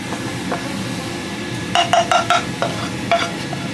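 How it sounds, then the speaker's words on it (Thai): A few bright metallic clangs ring out, a quick cluster followed by two more single knocks, as a utensil strikes a wok at a food truck to call customers, over steady background rumble. "ทำไมต้องเคาะกระทะเคาะเรียกลูกค้านะคะทุกคน"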